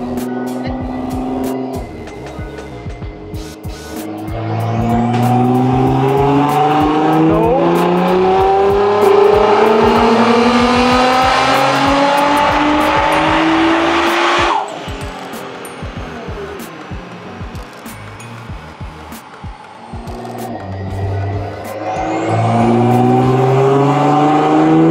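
Nissan GT-R engine revving hard on a dyno, a loud sustained roar climbing in pitch, cutting off sharply, then building again, with a faint voice briefly in the mix.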